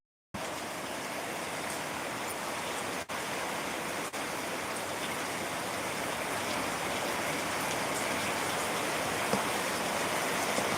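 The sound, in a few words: rain falling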